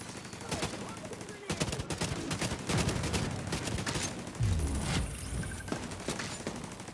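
Rapid gunfire in The Division 2 on PC, with loud repeated bursts of automatic fire and heavy thumping shots packed closely together across the whole stretch, and no pauses between volleys.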